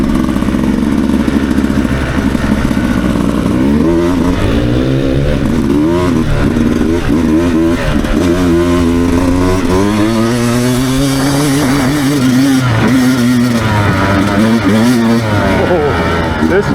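A Beta 200RR Race edition two-stroke dirt bike in dry mode revs hard at full power, its loud, close engine note climbing and falling in steady sweeps, with a voice talking over it.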